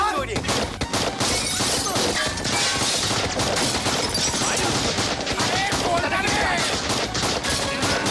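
Gunfire in a Bengali movie scene: dense, loud bursts of rapid shots with crashing impacts throughout, mixed with shouting voices.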